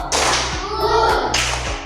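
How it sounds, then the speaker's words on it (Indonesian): Students in a classroom clapping a counted rhythm game, a few loud, close group claps in quick sequence over a constant low background hum. "Tepuk 3, 2, 1."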